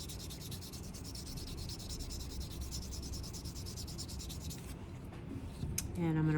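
Soapstone heart being sanded with 800 grit sandpaper: a steady, close rubbing scratch that runs continuously before easing off near the end, followed by a brief clatter.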